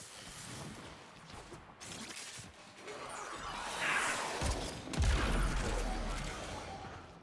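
Enemies fire guns at the player in Warframe: bursts of shots and crashing impacts rise to a loud peak mid-clip, then slowly die down under the game's background noise.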